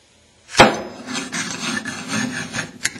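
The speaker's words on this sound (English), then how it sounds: "Now it moves free. There's just a bit of counter pressure here." An M16/M4 bolt with a cutaway receiver slides dry along its rails, a sharp metallic clack at the start followed by a rough scraping rasp and a final click, close and alone.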